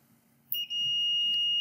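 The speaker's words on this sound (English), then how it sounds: "Hear the beep when the probes are pressed together." A multimeter set to continuity gives a sudden, steady high-pitched electronic beep as its probes touch, holding as a continuous tone after a brief dip, loud and close.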